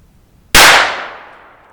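A single sharp gunshot fired while hunting ruffed grouse in the woods. It is a loud, close crack that starts abruptly and then fades in a trailing echo over about a second.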